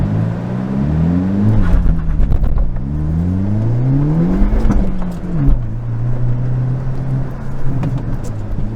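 A 2022 Hyundai Elantra N on a wet autocross track held in first gear, its engine revving up and down in repeated sweeps with auto rev matching, loud and close from inside the cabin.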